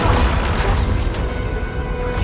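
Heavy booming crashes as ruins are destroyed during a video game live event, a loud continuous rumbling roar with dense low-end impacts throughout.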